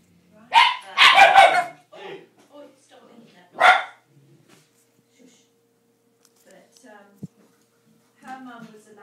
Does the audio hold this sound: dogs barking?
yes